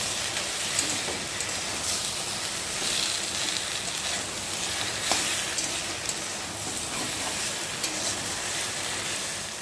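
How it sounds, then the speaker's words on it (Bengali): Steady, dense rainfall hisses across a wide band for the whole stretch, with occasional heavier splats standing out; no voices. "সকাল থেকেই তো বৃষ্টি হচ্ছে"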